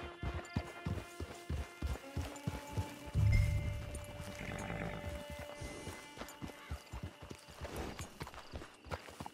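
A horse gallops in the video game Red Dead Redemption 2 Online, with rhythmic, fairly close hoofbeats pounding at a quick steady pace, a brief heavy thump partway through, and the hooves carrying on afterward.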